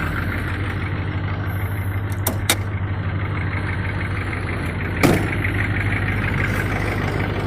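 An LB7 Duramax diesel truck with a cold air intake and EGR delete idles steadily after a cold start, a constant low rumble with a couple of brief knocks or clicks partway through.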